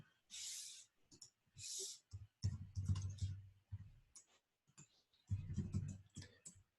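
Quiet computer keyboard typing: clusters of crisp key clicks arrive in short bursts separated by brief pauses, close by with no voices.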